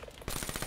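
Rapid automatic gunfire in a Black Ops zombies video game, a quick burst of evenly spaced shots that begins suddenly after a quiet moment.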